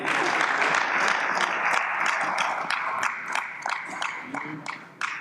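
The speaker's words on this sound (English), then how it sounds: "Ladies and gentlemen, a round of applause." Audience applause at a business summit panel, a full burst of clapping from the crowd that gradually thins out into scattered individual claps toward the end.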